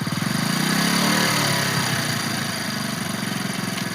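A motorcycle engine runs steadily at close range with a low, throbbing idle that swells slightly as the throttle is held up during a beginner's riding lesson, with no talk over it.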